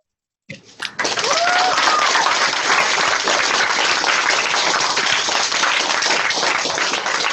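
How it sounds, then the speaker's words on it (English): A large audience breaks into warm applause after a Pro Football Hall of Famer is introduced, starting abruptly and holding as a dense, even wash of clapping to the end, with a faint whistle early on. "join me in giving a warm round of applause to one of the greatest football players of all time, Pro Football Hall of Famer, Mr. Jim Otto."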